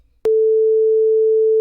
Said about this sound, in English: Okay, that's a sine wave.